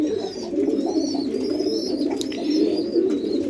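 Pigeons in a pigeon house cooing in soft, repeated low calls close by, with a few faint chirps above and no talking.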